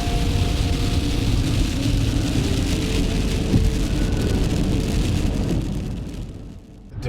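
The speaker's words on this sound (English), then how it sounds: "it's really storming out here" A heavy outdoor rainstorm pours down steadily with dense, broad hiss of rain on surfaces and low rumbling, loud and continuous before easing slightly near the end; no talking.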